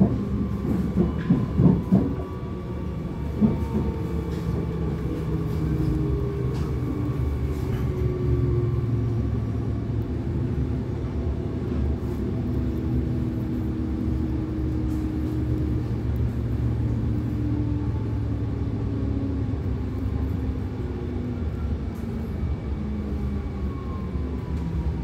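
An Amsterdam metro line 50 train runs on rails toward Isolatorweg, a long steady rumble with gliding motor whine and a few clanks at the start, heard from inside the carriage with no talk.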